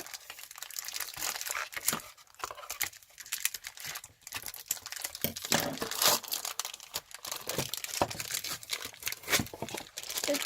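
Japanese-edition Beyblade Burst GT Slash Valkyrie toy packaging is cut open with scissors up close. Irregular crinkling plastic, small snips and crunchy rustles come in quick bursts, with no talking.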